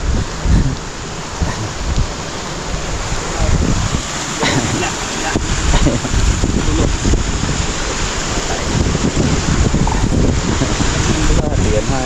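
Strong waves and a fast current roar continuously in the rain at sea, with loud, close wash and buffeting wind noise on the microphone throughout.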